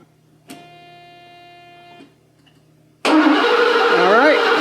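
A Mercedes 560SL with no spark and its fuel pumps disconnected cranks over loudly and close after a steady electronic tone, and a voice talks over the cranking.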